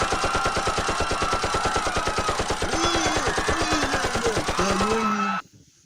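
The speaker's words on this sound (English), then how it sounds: "Give me a machine gun." Rapid machine gun fire as a sound effect, a loud, dense, evenly spaced burst of shots running for about five seconds before cutting off abruptly, with faint voice-like tones rising underneath near the end.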